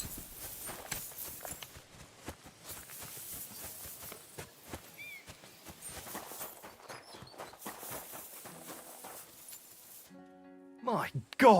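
A horse clip-clops at a steady walking pace, hooves close and fairly loud, then the steps fade near the end as other noises take over.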